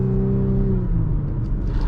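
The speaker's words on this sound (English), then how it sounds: "Do a little brake check." A 2018 Audi SQ5 slows in a brake check on the road, its low engine hum dropping in pitch over steady tyre and cabin rumble, close and loud.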